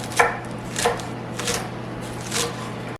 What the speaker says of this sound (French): Je vais couper le céleri et puis en ciboulette.